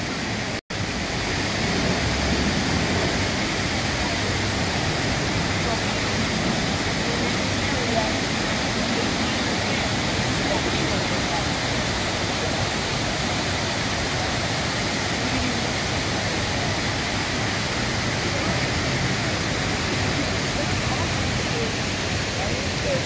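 A water feature on the Las Vegas Strip splashes in a steady, broadband rush that holds constant and fairly loud from start to finish, with no breaks.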